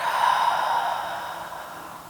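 A long, deep exhale through the mouth during a guided yoga breathing practice, a soft airy rush that starts full and slowly fades over about two seconds, close and alone with no talk.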